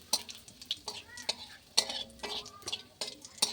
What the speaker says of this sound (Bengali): তেলটা আমার গরম হয়ে গেছে আমি এই যে রাঁধুনি ফোড়ন দেবো